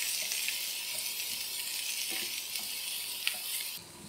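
Boiled peas, chopped capsicum and grated carrot sizzle steadily in a hot pan while being mixed for a vegetable kachori filling, a close, continuous frying hiss with faint scraping throughout.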